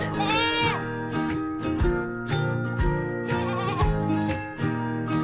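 A young farm goat gives a run of repeated quavering bleats, near and clear, one after another over about five seconds, without any voices.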